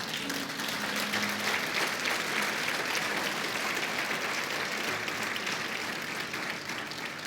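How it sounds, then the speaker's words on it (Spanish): A church congregation claps together in praise during a sermon, loud sustained applause rolling on evenly for several seconds, with a faint tone humming underneath. "¿Merece una ofrenda de palmas el Señor?"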